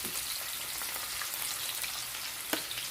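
Fish frying in oil for a crispy fried fish dish, giving a steady, close, broadband sizzle with faint crackles and one small pop near the end, and no talking.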